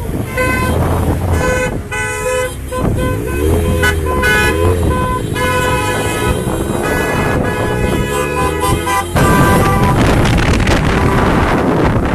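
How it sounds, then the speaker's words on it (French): Car horns toot repeatedly and nearly nonstop at a yellow-vest street protest in Montpellier, loud and close, with long held blasts and wavering tones over crowd and traffic noise and wind buffeting the microphone. "vous voyez toutes les automobiles qui sont avec nous, vous entendez les klaxons sans arrêt."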